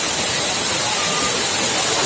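Loud, steady roar of the Saliu waterfall at Bontomanurung, Maros, a dense, unbroken rush of falling water filling the whole scene close by.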